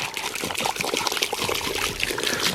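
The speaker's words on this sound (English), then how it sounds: "every time I pour the water in" Water trickles and splashes steadily as it is poured while tapping maple trees, a continuous close-up dribbling with small bubbling spurts throughout.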